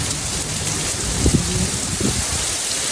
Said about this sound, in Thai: พายุฝนกระหน่ำพายุฤดูร้อน กระหน่ำที่เมืองโคโลนนะลงหนักมากฟ้าร้องเลย